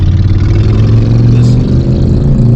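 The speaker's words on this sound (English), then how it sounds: "obnoxious loud motorcycle that was driving next to me" Loud motorcycle riding alongside on a highway, its steady engine drone and road roar continuous and close throughout, with no clear rise or fade of a pass.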